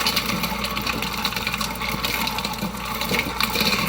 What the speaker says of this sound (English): now you can see the nuts are really starting to move around again in the tumbler